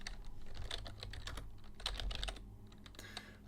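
Rapid, close clatter of keys on a computer keyboard while typing C# code, with irregular bursts of taps and brief pauses, quiet and without speech.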